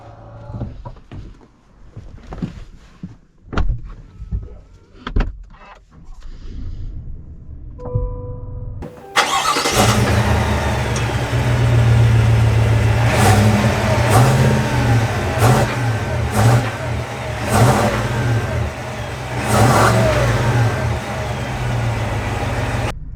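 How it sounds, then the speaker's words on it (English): A 2021 Cadillac Escalade Platinum pulls away with its engine rising in a loud, sustained roar, settling and surging again as it accelerates down the road, with no talking. "let's take it out and see how it drives"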